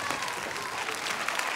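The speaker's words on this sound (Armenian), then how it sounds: "Քրիստինա Հովակիմյանի սանը ծափարենք" Steady audience applause fills a hall, a dense, continuous patter of many hands at moderate volume with no pauses.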